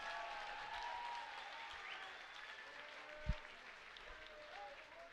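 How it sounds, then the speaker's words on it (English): Applause from a distant crowd after a kickboxing fight, faint and continuous, with a single thump partway through. "Let's have a round of applause for 2 great fighters and one hell of a fight."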